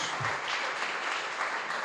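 A church congregation at an evening worship service claps in a brief, continuous burst of applause, moderately loud and unbroken, with no voices standing out.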